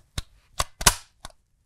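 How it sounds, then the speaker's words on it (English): An HK G41 rifle bolt clacks shut among a short series of close metallic clicks and clunks, four distinct hits with the loudest, longest one near the middle, in an otherwise quiet room. "It doesn't really silently close the bolt at all."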